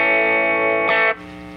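An electric guitar played clean through a Fender Princeton 65 amp with no drive or reverb, a loud sustained chord that is cut short and damped partway through, with no voices.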